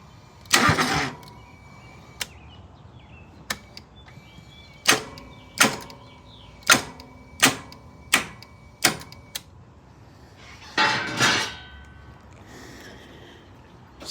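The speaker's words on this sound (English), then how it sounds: "Here is what the mower is doing. I believe the starter is out." A twin-cylinder fuel-injected Kohler Command Pro EFI engine on a Scag mower with a faulty starter gives a series of sharp, separate clicks and clunks when cranked, close and loud, with brief whirring bursts at the start and end and no talking.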